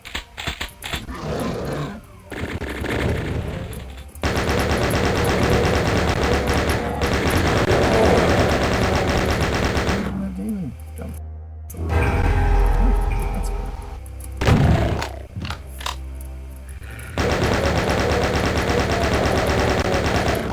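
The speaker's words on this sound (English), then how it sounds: "I'm trying to shoot chain gunners" Rapid, continuous chaingun fire from a Doom-engine game rattles loudly in long bursts, broken by short pauses, with rumbling impacts and growling creatures mixed in.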